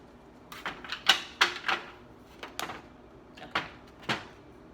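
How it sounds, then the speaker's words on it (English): A deck of tarot cards being cut and shuffled, giving a run of soft, quick card slaps and riffles in small bursts, close and fairly quiet with no talking. "Cut the deck."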